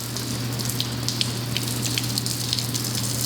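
A steady stream of deionized water from a tank rinses a ceramic-coated 2019 Mustang GT, a constant faint hiss with light splashing and patter throughout, no voices.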